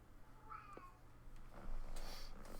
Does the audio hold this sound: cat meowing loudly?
yes